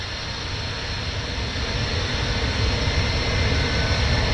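Engines of a McDonnell Douglas MD-80 in the MSFS 2024 simulator spool up during start, a loud, broad jet roar with a low rumble that grows slightly stronger, heard from outside the aircraft.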